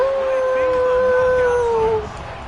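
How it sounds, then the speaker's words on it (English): A Husky howl sound effect plays in the Madden football video game: one long, sustained howl that holds steady for about two seconds, then cuts off, leaving a quieter background. "That's the Husky howl."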